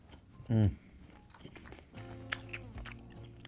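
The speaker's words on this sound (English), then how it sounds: "now to try one of these amazing, delicious Florentines." A crunchy chocolate Florentine biscuit bitten and chewed up close, with one loud crisp bite early on followed by quieter crunching and chewing, while someone talks.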